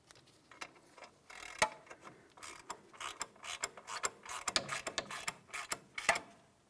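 Ratchet tightening the ball joint mounting nut on the steering knuckle of a 2007-2014 GMC Sierra 2500 HD, a quiet series of irregular metallic clicks and pawl ticks, close by.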